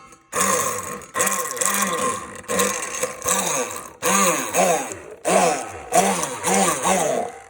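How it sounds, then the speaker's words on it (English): Immersion blender whirring through hollandaise sauce with a teaspoon of vinegar, running in repeated short bursts, each a rising then dipping motor whine with wet churning, close and fairly loud. "And then you're gonna immersion blend it."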